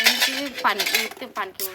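Metal knives and bowls clatter and clink together in a few quick bursts, close and sharp.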